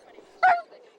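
Afghan hound at an outdoor lure coursing event, giving a single sharp bark close by in a quiet setting, followed by the onset of a second bark at the very end.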